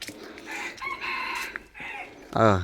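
A year-old rooster, a fighting cock, crows once loud and close at the end, after stretches of clucking and other bird calls.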